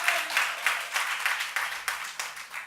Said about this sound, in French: Donc je vous demande de l'applaudir aussi très fort.